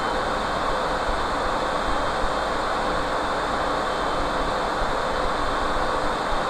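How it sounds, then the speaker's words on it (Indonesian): A recording of airplane cabin noise plays back as a loud, even broadband roar with a low hum. It holds constant for the whole stretch, with no voices. "saya akan hidupkan dulu suara kebisingan kabin pesawat"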